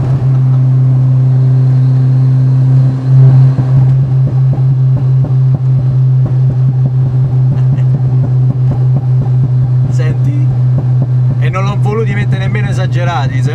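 Modified Fiat Uno Turbo with a blow-off valve, its engine idling steadily and then blipped in rapid revs with sharp hissing valve releases, close and loud, with excited voices talking over it.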